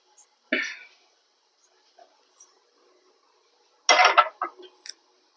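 An iron kadai set onto a stove in a village kitchen for mutton sukka makes one sharp metallic clank, then a quiet pause, then a close cluster of clattering, scraping knocks.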